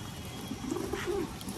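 A single soft coo from a male Madrasi Teepler pigeon rises briefly over a quiet, hissy background, close and low.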